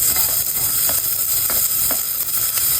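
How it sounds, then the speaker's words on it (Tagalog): Garlic, ginger and onion sautéing in oil for salmon sinigang, a loud, dense, continuous sizzle close up with faint scraping stir strokes scattered through it, no voices. "Oil muna tayo and then gisa muna natin ang bawang saka ginger, yung ating onion"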